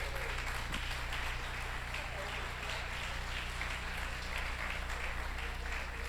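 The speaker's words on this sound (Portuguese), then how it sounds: "Você pode aplaudir Jesus?" A congregation at a church mothers' faith conference applauding Jesus, a continuous broad patter of many hands clapping over a steady hum, moderately faint, with a voice briefly audible.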